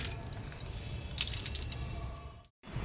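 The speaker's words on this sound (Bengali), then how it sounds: "গোপালের জামাগুলি ধুয়ে দিই।" Clothes being washed by hand under a running tap, a steady broadband rush of water with small splashes and drips, fairly close, briefly cutting out near the end before the flow resumes.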